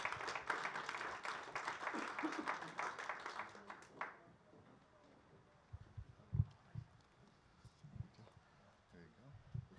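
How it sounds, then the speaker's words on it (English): Audience applause for a panel host at a conference on standardized data sets, dense clapping for about four seconds before it stops abruptly, followed by a quieter stretch with scattered knocks and low movement noise. "If we could give Merri Jo a round of applause"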